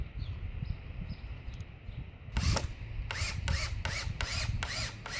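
Wood screws driven into slats of a 2x4 wooden bike rack: a power drill whirs in several short bursts, one long run followed by a rapid series of brief pulses, over a low background hum.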